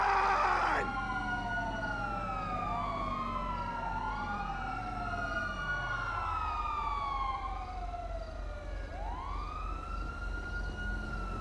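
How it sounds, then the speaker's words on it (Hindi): Police sirens wail in GTA V, several overlapping rising and falling tones sounding continuously at steady volume without pause. "सायरन बजना अब कम हो गए।"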